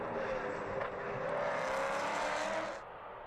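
Maserati Trofeo race cars at the Red Bull Ring in 2015, with a loud, close engine roar that swells as a car passes and then quickly fades.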